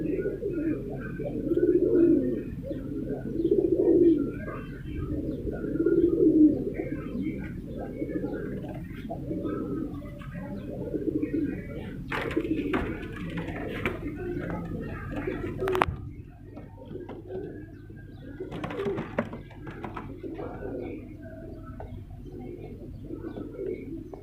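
Several rare fancy pigeons coo in soft, repeated low throaty phrases at close range, with a voice talking intermittently over the cooing.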